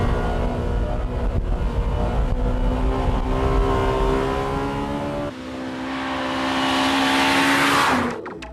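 A Honda Civic Type R is driven hard around a winding test course, its engine howling with rising and falling harmonic tones through gear changes, close and loud, ending with a sharp climb in revs.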